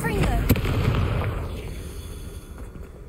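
A Confringo fire spell in Hogwarts Legacy goes off as one sharp blast that fades into a crackling, rumbling burst, loud and close, while a voice calls out over it.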